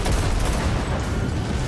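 Dense, continuous gunfire from the video game Cyberpunk 2077, a loud unbroken rattle of shots and booms with no talking over it.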